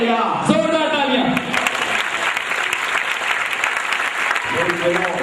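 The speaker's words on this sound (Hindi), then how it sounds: "जोरदार तालियां।" A crowd at a prayer meeting breaks into loud, sustained clapping that fills the room, with a voice briefly heard at the start and again as it fades.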